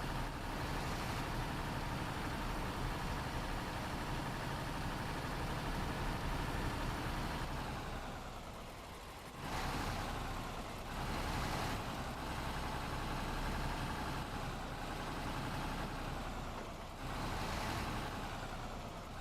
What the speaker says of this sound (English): Certainly sounds like a proper truck, though.